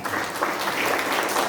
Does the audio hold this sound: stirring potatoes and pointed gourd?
no